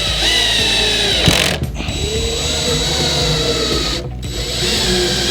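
Power drill driving screws to fix a bracket to a cabinet face frame, a loud whirring motor with ratcheting clutch clicks, starting and stopping in two short bursts close by.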